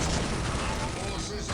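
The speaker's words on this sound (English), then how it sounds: "More pew pew versus bolter guns here." Bolter guns firing in a Dawn of War Space Marine battle, a dense, continuous fusillade of crackling gunfire mixed with other weapon fire, loud and sustained throughout with a game commentator's voice talking over it.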